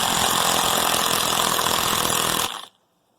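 A Metabo 36V brushless impact driver runs on its slower setting with a loud, steady, rattling buzz that lasts about two and a half seconds and then cuts off abruptly into silence.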